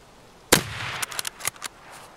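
A single sharp sniper rifle shot in Escape from Tarkov cracks loudly, followed by a quick cluster of fainter impact and echo snaps trailing off within about a second, with no talk.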